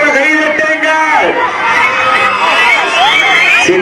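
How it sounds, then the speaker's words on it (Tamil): Crowd at a bull-taming event cheering and shouting for the players, with whistles and excited voices rising and falling in a loud, continuous roar, and a voice heard over the din. "சீட்டி அடியுங்கள், கைதட்டுங்கள், வீரர்களை உற்சாகப்படுத்துங்கள், ஜோர கைதட்டுங்கள்."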